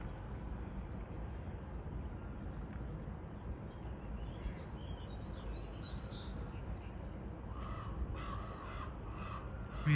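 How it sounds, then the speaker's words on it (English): A couple of crows caw faintly from a distance near a canal late in the clip, their short harsh calls sitting above a steady broad rush of water and wind. "A couple crows in the end."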